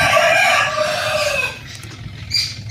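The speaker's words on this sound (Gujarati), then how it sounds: "મારો કુકડો અહીંયા બોલ્યો" A rooster crows loudly and close by in a Porbandar-area village, one long drawn-out call that fades after about a second and a half, followed by quieter rustling and a faint brief cluck.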